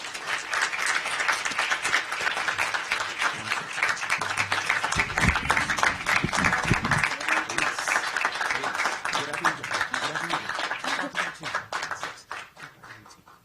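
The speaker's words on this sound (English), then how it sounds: "please give a round of applause for your national junior champion, Kyla DiCello" A council session audience applauds a national junior champion, steady close clapping that runs for over ten seconds, briefly mixed with a low rumble midway, then tapers off at the end.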